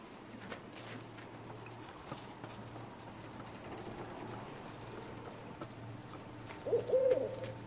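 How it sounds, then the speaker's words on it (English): Owl hooting at night in the stealth survival video game Endling, a brief tonal call rising near the end over a steady low ambient bed with faint insect-like texture. "Oh no, that's an owl."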